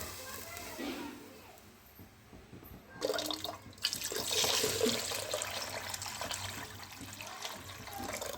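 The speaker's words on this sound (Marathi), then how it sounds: "आता यामध्ये पाणी टाकायचे आहे." Water poured into a hot tempering for sweet-sour tamarind and jaggery dal, a sudden gush and bubbling sizzle starting partway through after quieter kitchen sounds, with someone speaking over it.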